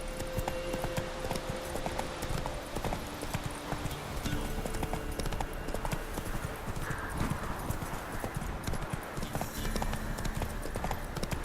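Rapid, rhythmic clip-clop of the horse Roach's hooves galloping continuously in The Witcher 3, with game ambience and brief faint tones layered underneath.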